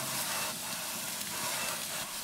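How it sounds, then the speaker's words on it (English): Steady, loud hiss of steam as a wet sponge grill brush with metal mesh is rubbed over a hot grill around 300 degrees Fahrenheit, continuous and close with no talking. "The steam loosens any bits of food, and the metal mesh just washes it away."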